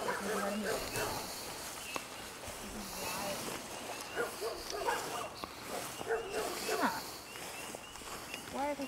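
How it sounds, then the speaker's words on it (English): A dog barks amid agitated animal calls at an old amusement park at night, with busy overlapping yips and cries continuing throughout, mixed with people talking and footsteps nearby. "Why is that dog on? Animals are going nuts."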